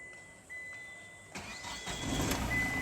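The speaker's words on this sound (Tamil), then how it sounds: "ஸோ வண்டியை ஸ்டார்ட் பண்ணுறேன்." A Hyundai Xcent or Grand i10 with a fault that makes it accelerate on its own cranks briefly and starts, then settles into a rising, steady idle heard up close with a faint whine behind it.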